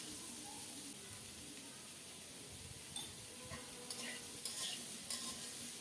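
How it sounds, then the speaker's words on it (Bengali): Carrot and raw papaya frying in a pan, with a dense continuous sizzle and repeated utensil scrapes and taps while the vegetables are stirred, close up and without speech. "কিছুক্ষণ ভেজে নিয়ে এখন কাঁচা পেঁপে দিয়ে দিলাম"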